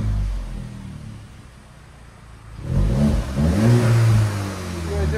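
A 2024 VW Golf GTI with an MBRP exhaust idles quietly at first, then revs up into a throaty, rising engine note with a deep droning tone, close and loud.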